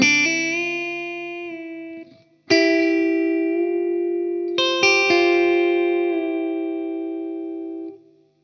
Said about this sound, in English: to get that pedal steel sound, you kind of have to play chords and then play bends within chords